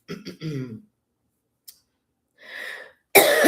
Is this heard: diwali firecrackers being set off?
no